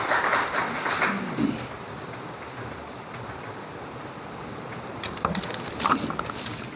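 Audience at a college poetry gathering in Depalpur breaks into applause, a dense crackling wash that is loudest at the start, settles into a steady patter, then swells again with sharper claps near the end.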